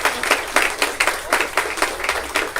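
An audience at a mushaira poetry recital in Delhi claps in rhythmic, evenly spaced bursts. The applause is moderately loud and steady, with no talk over it.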